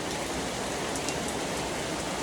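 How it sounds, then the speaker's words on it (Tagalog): Steady, dense rain pours down as a continuous hiss, close and even throughout, with no voices. "Tapos padayon gyapon ang ulan diri sa amoa."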